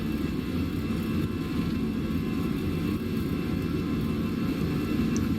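Airliner jet engines hold a steady, loud roar at takeoff thrust in the Fenix flight simulator, a continuous low rumble with a constant whine above it and no break through the clip.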